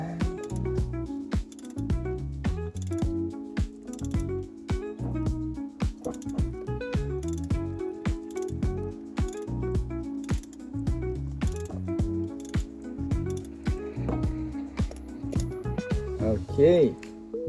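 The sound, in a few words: loosening an oil filter on a diesel car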